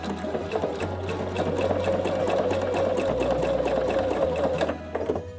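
A Pfaff Quilt Expression 720 sewing machine runs steadily while stitching down ribbon, a close, continuous motor hum with fast needle ticking that slows and stops near the end.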